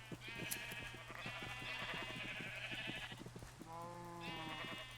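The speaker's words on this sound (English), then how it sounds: "God, there's so many sheep crammed into this pen." Sheep crammed into a crowded Minecraft pen, with one cow among them, bleat repeatedly in overlapping, wavering calls over a steady low hum and a rapid ticking rhythm. There is no talk.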